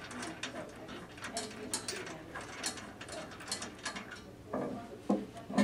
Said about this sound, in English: with a half inch wrench or socket, you're going to loosen that bolt and remove it from the support.